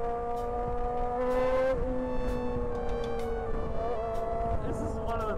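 A Formula One car engine screams at around 20,000 RPM in Melbourne, a sustained high-pitched whine with shifting pitch and sharp bursts, heard at a distance under crowd noise.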